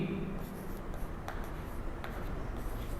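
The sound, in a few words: writing an equation by hand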